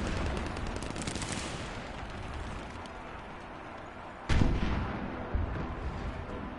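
Gunfire and artillery in the combat game War Thunder: a dense, continuous rumble of shots and blasts, with a sharp, louder explosion near the end followed by another heavy boom.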